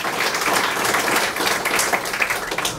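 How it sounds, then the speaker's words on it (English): Steady applause from a crowd, dense clapping that keeps going without a break. "a big round of applause for all the families and the wives"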